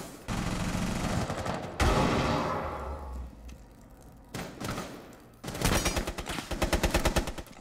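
Gunfire from Rainbow Six Siege: sharp bursts of shots at the start, a heavy thump, then a rapid closing volley of automatic fire. The shots are loud and close, with quieter gaps between them.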